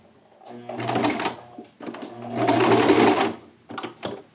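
Sewing machine stitching the sleeve of a slim-fit shirt, running in two longer bursts and a few short stutters, loud and close with a steady motor whir and no talking.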